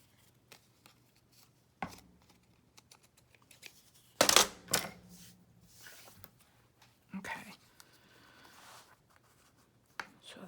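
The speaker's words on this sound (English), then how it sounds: "let me cut those extra edges off here" Scissors trim the extra lace edges off a handmade shabby-style folio, with scattered close snips and papery rustles and a louder cluster of cuts partway through, all under quiet surroundings.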